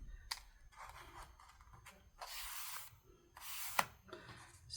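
Scissors trim the ends of journal paper with several quiet, close crisp snips and rustling paper slides spaced irregularly, one sharper click standing out near the end.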